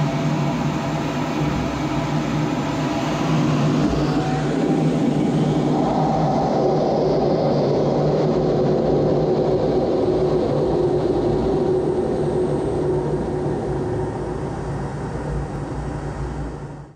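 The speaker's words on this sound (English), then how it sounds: "That was the sound from inside the cockpit of Blackjack, the 2022 Typhoon display aircraft during takeoff" Eurofighter Typhoon display jet taking off, heard from inside the cockpit: a loud, steady, continuous engine roar with a broad whooshing rush that holds for the whole stretch before cutting off at the end.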